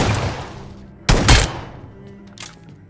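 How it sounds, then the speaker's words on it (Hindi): Shotgun blasts in BGMI gameplay, one loud sharp report with a reverberant tail after earlier rumbling fire, then a fainter shot further off, no voices. "अब इस चौथे बंदे को भी मैं जंप शॉट से मारने का ट्राई करता हूँ"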